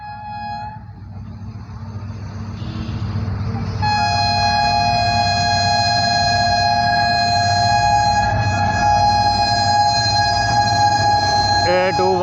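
An HGMU30-hauled Millat Express on Pakistan Railway approaches at speed, its sustained horn blaring loud and steady over a growing rumble of wheels and rail noise.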